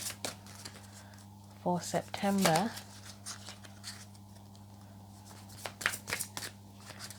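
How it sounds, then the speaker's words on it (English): A deck of tarot cards is shuffled in short bursts of riffling and sliding, close and crisp, with soft scraping between them and someone speaking briefly. "This is one of the most awkward decks to shuffle under a camera"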